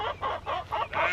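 A rooster clucks in four short, evenly spaced bursts, close and moderately loud with a quiet gap between each call.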